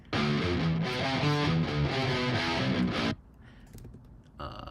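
Distorted rock guitars and a snare drum playing together in a dense, loud mix, the guitars locked to the snare's rhythm for about three seconds before cutting out to a quiet, sparse tail.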